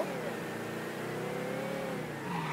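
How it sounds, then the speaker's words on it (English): Car engine in Mafia III revving hard as the car accelerates through a burnout, a steady rising engine drone with shifting pitch, heard under a talking voice. "It's still accelerating, it's still doing a burnout"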